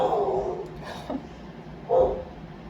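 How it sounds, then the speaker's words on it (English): A dog barks twice at moderate distance, one bark right at the start and another near the end, with quiet background noise between. "you obviously heard that dog barking"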